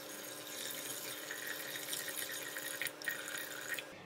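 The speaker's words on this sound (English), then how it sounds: "Switch on the heat and put in the water." Water pours steadily into a pot of mung beans, a soft continuous splashing stream with faint rattles, stopping near the end.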